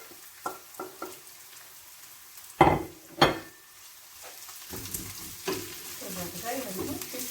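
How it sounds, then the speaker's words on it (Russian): Bell pepper and onion fry in a pan, giving a soft, steady sizzle broken by a few clattering stirs and scrapes of a utensil against the pan. "Теперь жарим болгарский перец."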